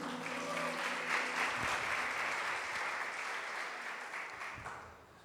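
A church congregation applauds together in a sustained burst of dense clapping that stays steady and fairly loud throughout, fading slightly at the very end.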